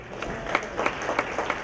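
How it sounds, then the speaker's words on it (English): Audience applause at a high school honors night, a steady patter of moderate clapping from a seated crowd filling the room. "Yeah, you can clap for Rachel."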